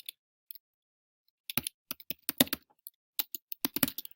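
A computer keyboard is typed on in irregular bursts of crisp clicks while a paragraph is written, starting sparse and then growing dense, close and quiet with no voices.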